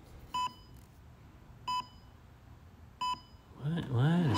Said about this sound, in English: I have no idea why that started beeping.